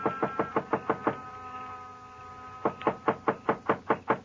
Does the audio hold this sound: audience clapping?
no